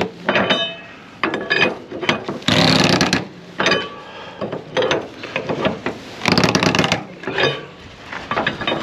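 A ratchet strap is cranked tight on a lumber and rebar load, giving repeated loud rasping clicks in uneven bursts with short pauses between pulls, close to the microphone.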